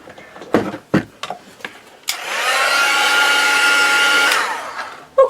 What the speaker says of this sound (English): I'm just going to get my heat gun and I'm just going to dry off that white gesso.